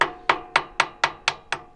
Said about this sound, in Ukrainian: щоб прокладка не порвалася, треба молоточком трохи її в сторону збити